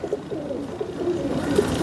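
A female pigeon coos in a fancier's loft, soft low warbling coos repeating close by with a slight rise toward the end, no voices over it.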